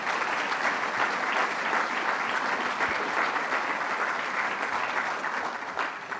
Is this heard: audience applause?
yes